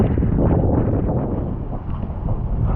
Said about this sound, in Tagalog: lakas po ng hangin eh lakas na ng hangin